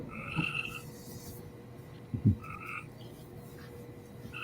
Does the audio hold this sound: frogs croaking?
yes